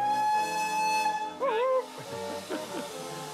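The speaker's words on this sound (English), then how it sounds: "Turn the whistle, pull the chain." Steam locomotive whistle on a restored heritage railway, a loud sustained tonal blast that bends and wavers before fading, followed by softer hissing and a few brief sounds.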